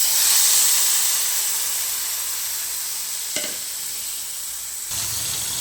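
Masala spice paste made with a little water, poured into a hot kadai wok while cooking matar paneer, giving a loud steady sizzle that slowly fades, with a brief scrape of stirring near the end.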